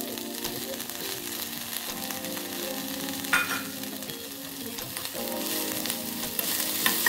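Small chopped onions sizzle in hot oil in a pan, a steady bright crackle with occasional stirring scrapes, close and clear with no talk.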